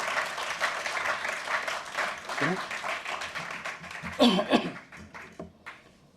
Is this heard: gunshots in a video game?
no